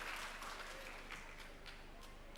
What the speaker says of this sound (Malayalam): ഉറക്കെ കൈയടിക്കണം.